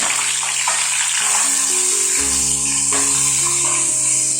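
Onion paste dropped into hot oil for a Bangladeshi bain fish curry with coconut milk, giving a steady close sizzle and hiss throughout with faint clinks of a utensil, no talking.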